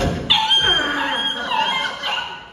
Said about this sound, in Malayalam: ഈ പന്ന പട്ടിയ